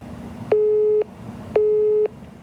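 A telephone busy signal repeats twice in a steady rhythm, each half-second tone followed by a half-second pause, clear and prominent over faint line hiss.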